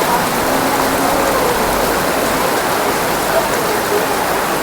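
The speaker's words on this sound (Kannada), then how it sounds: "ಟಿಪ್ಟೂರಲ್ಲಿ ಧಾರಾಕಾರ ಮಳೆ ಇವತ್ತು ಅಪರೂಪಕ್ಕೆ." Heavy downpour of rain in Tiptur, a steady dense roar of falling water on surfaces, constant and loud throughout with no breaks.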